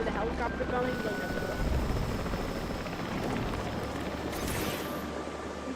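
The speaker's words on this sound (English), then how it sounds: "they hear the helicopter coming" Helicopter approaching in a dinosaur survival video game, a steady loud rotor drone running throughout with other game sounds mixed in.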